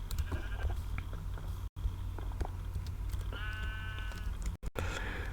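Sheep bleat in Minecraft beside a sheep pen, a harmonic wavering bleat standing out near the end over a steady background of game ambience, with other soft blocky sounds scattered throughout.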